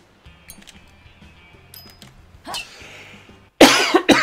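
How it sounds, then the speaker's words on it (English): A man coughs near the microphone while playing Everybody's Golf on PS4 after eating chilies, with a short cough and then a louder harsh burst of coughing over faint game music and clicks. "It wasn't the shot that made me cough."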